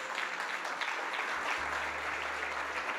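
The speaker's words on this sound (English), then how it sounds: "I want you all to please stand and give Sister Rita Marley a big round of applause" An audience at a glitzy entertainment gala at the Jamaica Pegasus Hotel in New Kingston gives Sister Rita Marley a standing round of applause, a continuous, dense crowd clapping, with a low hum entering midway.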